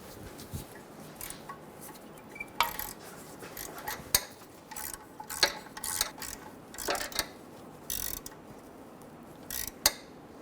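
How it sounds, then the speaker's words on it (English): A ratchet wrench snugging down an alternator stud on a 2000-2007 Ford Focus 2.0L gives short, close bursts of metallic clicking spaced irregularly, with small clinks of tools between them and no talking. "Get the stud nice and snug."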